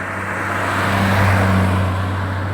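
A BMW car driven fairly sportily gives off a loud, steady engine drone that swells slightly midway, heard from close by with no voices.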